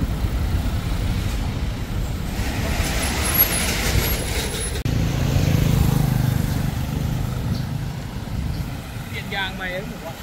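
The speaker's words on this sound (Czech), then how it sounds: "Stanoviště autobusů thajských." Bus-station traffic in Pattaya, Thailand rumbles on continuously, with engines idling and passing, an air-brake hiss and a steady roadway roar. People talk over the noise.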